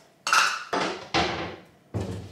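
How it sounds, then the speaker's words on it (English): Dishes are handled at home, four separate sharp clattering knocks of dishware set down or bumped together, close and loud, each ringing briefly before fading, with no talk. "Let's start with the dishes."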